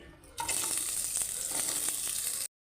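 Two onions drop into hot oil in a kadai and start frying, breaking into a loud, steady sizzle after a quiet start, then cutting off abruptly.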